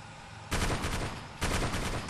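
Video game gunfire in two sustained automatic bursts, loud and close, the second following a brief gap, with no talk over them.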